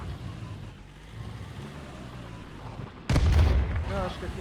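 Video game gunfire cracks out as one loud burst near the end, following a few seconds of quiet ambient game noise.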